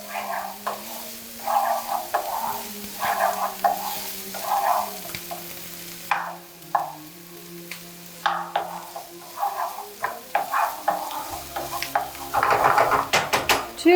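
Onions and peppers fry and soften in a pan with an uneven, crackling sizzle. A utensil stirs them, and metal clinks and scrapes are heard from time to time.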